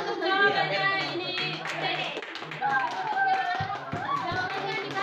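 Students in a classroom give brief clapping for an answer, a light patter of hands mixed with children's chatter and a teacher's voice, fairly close and not very loud.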